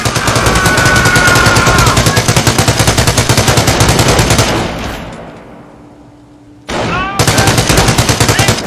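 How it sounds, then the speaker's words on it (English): A machine gun emplacement in Company of Heroes fires long, rapid bursts of loud gunfire, pauses briefly into near quiet, then resumes its rattling stream of shots. "The MG emplacement is suppressing the enemy troops."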